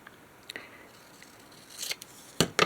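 Scissors snipping paper cutouts for a junk journal, a few quiet close crisp cuts spaced out, then a quicker cluster of snips near the end.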